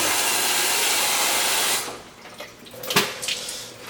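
Water pours into a bowl of noodles being mixed with Parmesan, a hissing rush for about two seconds before it cuts off, leaving quieter clinks and splashes close by.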